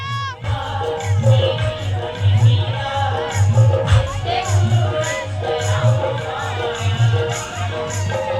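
A large seated crowd at a satsang sings a devotional bhajan kirtan together, voices blending over a steady low rhythmic beat, loud and close throughout.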